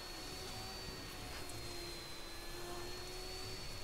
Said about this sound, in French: Il aime bien aspirer en même temps que la domestique.